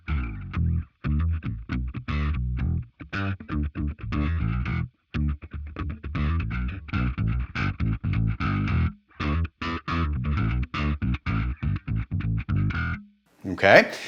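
Guitar with an octave-down pitch effect feeding a bass amp model on a Line 6 Helix, playing a continuous line of deep, gritty bass-like notes with short gaps, close and loud, with a brief noisy burst at the end.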